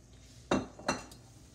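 Metal spoon clinks twice against a pot while stirring Haitian black beans and rice with bean cooking liquid, two sharp scraping knocks close up in a quiet kitchen.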